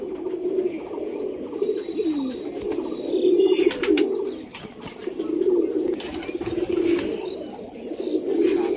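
Domestic high-flying pigeons coo continuously in a flock, the low throaty calls steady and close, with occasional chirps and wing flaps over about nine seconds.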